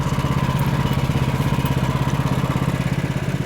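A Woodland Mills HM126 sawmill runs with a steady, throbbing small-engine drone and a fast, even pulse while cutting pine, loud and constant throughout.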